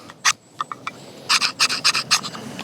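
The sharpening choil of a Gerber Strongarm knife scrapes along a ferro rod in a series of short, sharp, close scratches. A few scattered strokes come first, then a quicker run of six or seven rasps.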